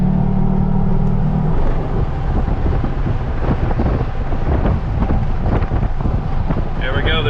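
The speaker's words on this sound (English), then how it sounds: "We have the wind noise, but that's it." Steady, loud wind roar fills the cab of a Jeep Gladiator with a Bestop Sunrider top while driving, a constant rushing drone mixed with road rumble.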